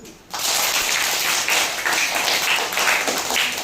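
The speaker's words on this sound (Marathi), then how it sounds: "आता तुम्ही टाळ्या वाजवल्या की नाही" Audience applause at a talk about Sadguru Wamanrao Pai's work: a crowd clapping hands together in a steady, dense patter that starts abruptly and holds at an even, fairly loud level throughout.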